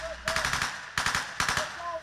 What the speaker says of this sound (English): The gunshot sounds are the same.